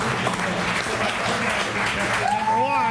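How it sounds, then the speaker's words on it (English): Studio audience applause on a game show, a steady dense wash of clapping throughout, with a voice rising over it toward the end. "Give Dave a round of applause"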